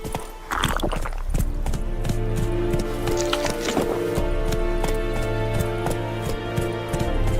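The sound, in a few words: horse hooves clip-clopping in video game Witcher 3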